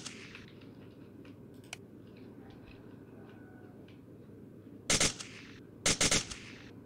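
A Sten Mark 2 submachine gun in the game World of Guns fires two short, loud bursts of sharp cracks close up, with a few light mechanical clicks before them over a steady low hum.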